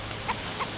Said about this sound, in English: That's a happy goose.